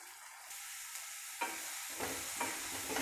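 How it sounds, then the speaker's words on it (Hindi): Turmeric, red chilli and coriander powders being stirred into paneer bhurji in a pan, a steady sizzle with scraping stir strokes growing louder partway through, close and without talk. "इसको डालकर अब मैं अच्छे से मिक्स कर दूँगी।"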